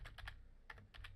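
Quick clusters of computer keyboard keystrokes, faint and close, tapped in two short bursts with a pause between them.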